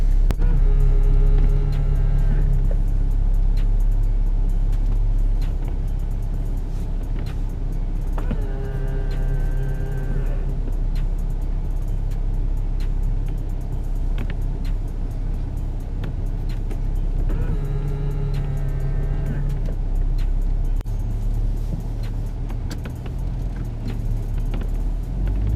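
A BMW N54 car with a blow-off valve adapter drives along, its engine droning steadily with rising and falling tones as it accelerates through gears in several pulls, fairly close and with no talk.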